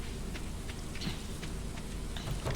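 Steady rainfall in the farming video game Stardew Valley, a constant dense hiss with scattered droplet patter, moderately loud and unbroken, with no voices.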